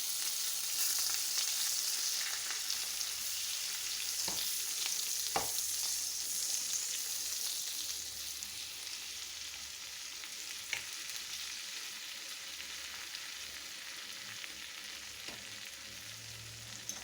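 Butter melting and sizzling in a pan while making menemen, a Turkish tomato and egg dish; a steady soft crackling hiss runs throughout, with a few sharp pops and faint clinks, fairly quiet and close.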